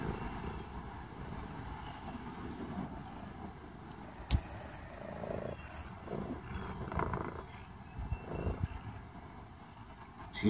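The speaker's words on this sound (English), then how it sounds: "She's purring." A small black bushy-tailed cat purrs softly and very close in a low, steady rumble, with faint handling rustles and one sharp click partway through.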